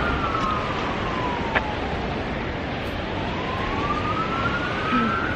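A wailing ambulance siren rises and falls in pitch, heard at a distance over steady wind and outdoor rumble, near Bondi Beach in Sydney, Australia.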